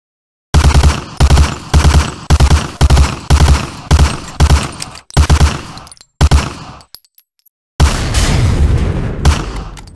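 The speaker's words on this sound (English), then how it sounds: "Shoot that target 20 times with the Thompson." Thompson submachine gun from the Medal of Honor: Allied Assault training range fires loud, close bursts in a regular rhythm of repeated volleys, with a short break before a final longer, denser burst.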